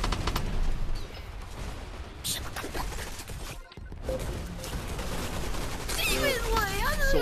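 Rapid gunfire from the VR shooter game Gun Raiders crackles in dense bursts throughout. A voice talks over the shots, a brief gap near the middle breaks the firing, and warbling whistle-like effects appear toward the end.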